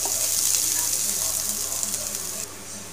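Onion, a little green chilli and spices frying in oil in a pan for an Indian vegetable dish, a steady close hissing sizzle throughout with faint stirring.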